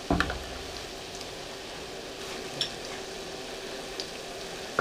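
Battered cauliflower pieces frying in a pan give a steady, low hiss of sizzling oil with a few faint clinks and stirring sounds, heard close with no talk.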